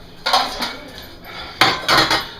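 Pans and dishes clank and clatter in two short bursts of handling, close by, with a quiet pause between them.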